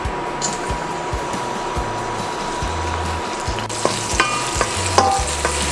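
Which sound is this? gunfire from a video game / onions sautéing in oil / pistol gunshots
onions sautéing in oil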